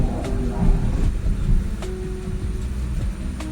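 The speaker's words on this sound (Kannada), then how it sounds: "ಈ ಸ್ಟಾಪ್ ಅಲ್ಲಿ ಗೂಡ್ಸ್ ಟ್ರೈನ್ ಹೋಗ್ತಾ ಇದೆ ನೋಡ್ಬೋದು" A goods train rumbles past a station stop with low rolling noise and faint metallic clatter, steady throughout with a few sharp clicks from the wheels.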